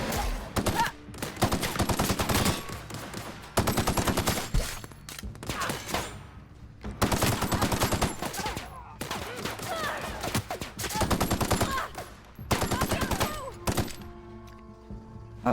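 Gunfire in the video game The Outer Worlds: repeated bursts of rapid automatic shots in several long volleys separated by short pauses, loud and close.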